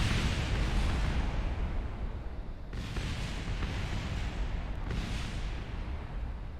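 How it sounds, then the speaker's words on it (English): Huge rocket explosion in the Kerbal Space Program video game, a sustained roaring rumble that swells in fresh bursts around the third and fifth seconds, loud and continuous with no talking. "Yeah, that's quite a big explosion there."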